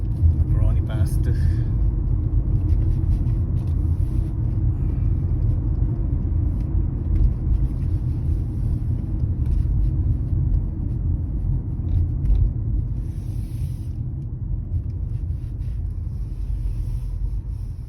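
Car traffic on the road near Stoke train station in the afternoon, a steady low engine rumble and tyre whir that holds constant throughout, close and continuous, with a voice talking over it at moments.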